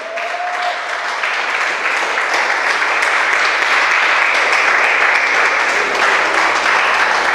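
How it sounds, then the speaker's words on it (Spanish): A church congregation applauds loudly and continuously, a dense, sustained clatter of many hands with no pause and no speech. "Dele un aplauso al que vive."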